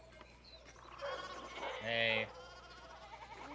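Sheep bleat in the video game Pentiment, a couple of nasal, wavering cries with one longer, louder bleat near the end, heard over quiet game ambience while someone briefly speaks.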